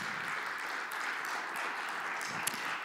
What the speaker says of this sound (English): Everybody, give one more round of applause for Anne